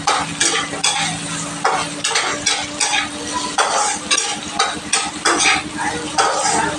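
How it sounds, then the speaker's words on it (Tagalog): Onion, ginger and garlic sauté in a pan for Filipino chicken ginataan, with a close, loud sizzle broken by repeated scraping stirs of a utensil against the pan in an uneven rhythm, and no talking. "Nagisa na ako ng sibuyas,"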